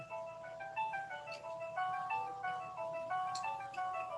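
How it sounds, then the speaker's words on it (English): A phone rings in the background with a repeating electronic melody of plinking tones, steady and moderately faint, with no talking over it. "that's my phone ringing in the background."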